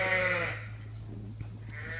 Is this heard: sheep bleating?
yes